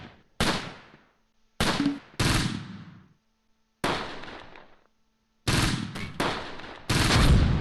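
Covering gunfire in the Close Combat World War II strategy game, set on the Fontenay–Caen road in Normandy in June 1944, cracks out in loud, separate bursts with echoing decays and short silent gaps between.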